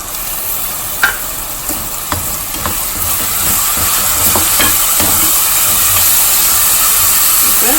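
Green chilli and tomato paste frying in a pot for Trichy mutton biryani, a few sharp spoon clanks early, then a steady close sizzle building slightly louder and continuing alone.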